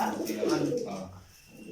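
Soft, low pigeon coos roll close by, a brief burbling call that fades out into quiet.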